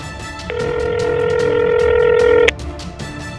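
A steady electronic phone tone sounds for about two seconds, then cuts off abruptly and the line falls quiet; a ringback-style tone, fairly loud and close.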